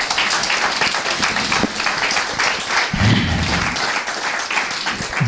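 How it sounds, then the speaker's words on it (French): A church congregation claps in a loud, continuous burst of applause during a sermon, with scattered thumps and cheers mixed into the dense clatter. "Applaudissez la gloire à Dieu."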